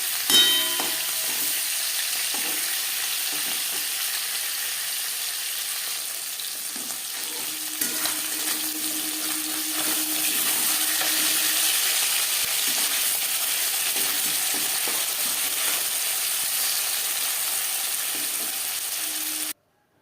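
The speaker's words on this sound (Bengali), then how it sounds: "মাছ ভেজে নেওয়া তেলে ফোড়নে দিয়ে দিলাম একটা শুকনো লঙ্কা ছোট এক চামচ গোটা জিরে" Dried red chili and whole cumin seeds temper in oil left from frying fish, giving a steady close sizzle and crackle with occasional stirring clinks, no voices.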